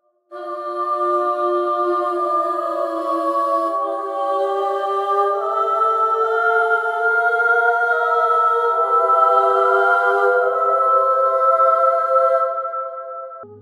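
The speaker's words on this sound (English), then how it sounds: "we have a choir that comes in to mimic that line" Two layered choir vocal parts panned hard left and right sing a sustained, harmonized melodic line for a game song, steady and full throughout with no talking.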